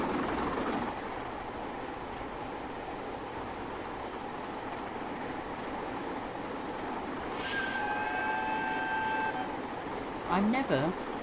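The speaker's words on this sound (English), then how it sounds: "I'm never going to be able to stop blowing that whistle." A steam or diesel locomotive in Train Simulator 2021, on a Mid-Devon morning run, sounds a few tonal whistle blasts over a steady running rumble late on, with a rising sweep at the very end.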